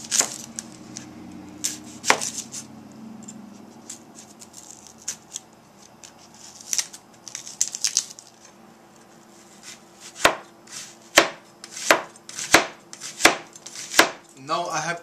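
A very sharp knife cutting tomato and onions on a board, with irregular crisp chops that become a fast, evenly spaced series of loud strikes toward the end, close and without talking.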